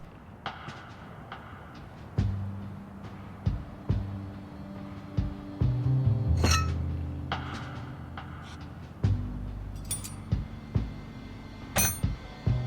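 Metal tools clink and tap against an engine under repair in the adventure game Kathy Rain 2, with scattered sharp knocks and rattles at an uneven pace over low mechanical rumbling, no voices.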